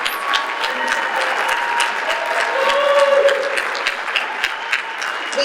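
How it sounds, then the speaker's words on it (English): An audience claps at an MLK Day celebration and service event, a moderate, sustained round of applause with some individual sharp claps standing out and faint voices mixed beneath. "Let's give them another round of applause."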